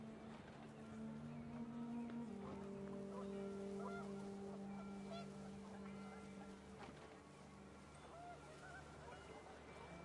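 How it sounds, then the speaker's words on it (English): Geese honk in panic in What Remains of Edith Finch as wind picks up, their faint, sustained calls overlapping in long drawn tones over a soft, steady background. "panicked geese appeared and quickly went"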